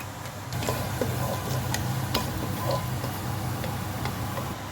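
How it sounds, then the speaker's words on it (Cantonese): Spices frying over low heat in oil in a wok for Swiss-sauce chicken wings, a soft continuous crackle with scattered light ticks and clicks, close and steady. "我哋就要放一啲香料落去，爆香佢先"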